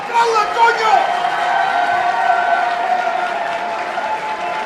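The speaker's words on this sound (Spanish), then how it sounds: "¡Aplauda, coño!" A crowd at a live reggaeton show applauds a performer being introduced, loud dense clapping mixed with cheers that swells at the start and holds steady, with a voice briefly audible over it.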